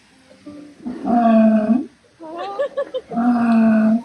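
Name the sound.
sea lion roaring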